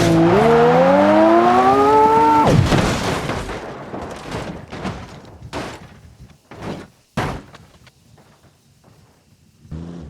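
A BMW M2 Competition in the BeamNG.drive video game, its engine whining sharply upward for about two seconds, then a loud crash followed by scattered bangs and clatters that fade out.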